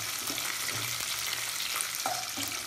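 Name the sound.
chopped tomato frying with onion and garlic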